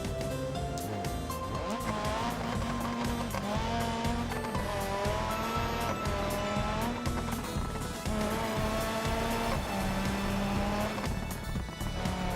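A rally car in the BeamNG driving game runs continuously with a droning engine that rises and falls through gear changes, along with intermittent tire squeal from skidding, loud and steady, with music-like tones layered over it.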